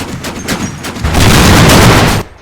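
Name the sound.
gunfire from video game Combat Mission: Final Blitzkrieg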